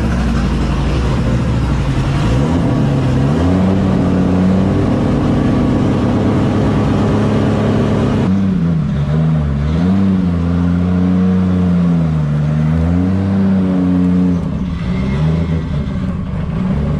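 A 900 hp BMW M3 E92 engine revs hard and continuously at a track, its loud, deep note rising and falling in long sweeps, steady and close throughout, with no talking over it.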